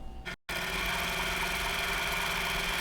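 A sewing machine stitching a quilt block, a steady close mechanical whir with a fast even rhythm running continuously after a brief cut at the start.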